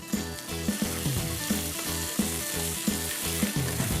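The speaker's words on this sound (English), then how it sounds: "we'll make these onions little golden brown. Then we'll put some little bit of ginger garlic paste." Onions with ginger garlic paste frying in a pan for a Nawabi fish curry, a steady sizzle under a regular tapping rhythm, with a musical beat running beneath it.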